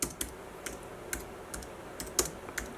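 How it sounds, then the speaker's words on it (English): Light tapping on a computer keyboard, a sparse series of soft, close keystrokes spaced irregularly over a quiet background. "all you got to do is type in Marlin Magic"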